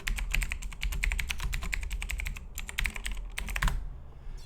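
An email address is typed on a computer keyboard in quick, close key clicks with brief pauses, ending in a final keystroke.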